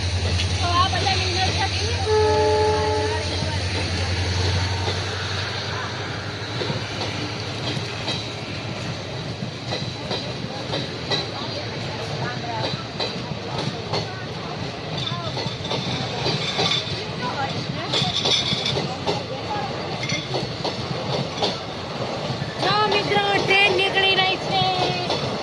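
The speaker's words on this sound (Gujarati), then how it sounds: "આવ નજીકથી રેલગાડી જોવા મળી." A train passes close by on railway tracks, its wagons rumbling and clattering in a loud, continuous clickety-clack with occasional wheel squeals, while people talk nearby.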